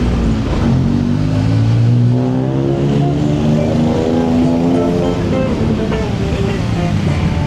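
Cars and motorbikes on a busy Bangkok road sweep past near and loud, engines rising and fading one after another over a constant traffic roar.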